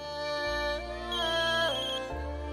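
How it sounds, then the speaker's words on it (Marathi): Mobile phone ringtone playing a bright electronic melody of stepped tones over a steady low backing, loud and close, with no voices. "तुझा फोन वाजतो"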